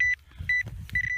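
A metal detector sounds three short electronic tones in quick succession as its coil sweeps over a buried brass buckle in a field, each beep clear and close with brief gaps between.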